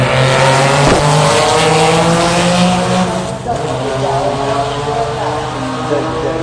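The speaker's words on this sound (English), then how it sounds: "Slow Porsche." Porsche touring race car at the Touring Car Masters, Adelaide Clipsal 500, roaring past loudly with a strong engine drone and pitch shift, close and continuous.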